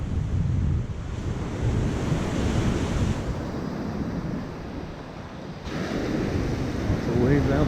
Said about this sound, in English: Lots of waves out this morning